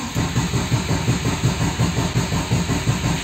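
An engine idles right after starting, following a clutch cable repair, a steady rhythmic low chugging pulse at close range with no talk over it.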